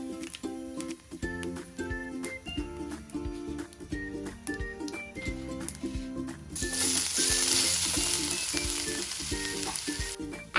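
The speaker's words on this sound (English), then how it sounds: "Add the oil. Add the ginger and garlic paste." Ginger garlic paste frying in hot oil while crab is cooked, a steady sizzle under rhythmic background music that swells louder toward the end, with no talking.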